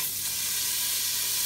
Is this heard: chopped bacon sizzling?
yes